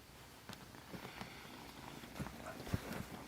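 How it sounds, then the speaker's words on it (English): A kitten purrs softly and close by, a low continuous rumble with a few small bumps and rustles from play, quiet throughout. "Purring and attacking me."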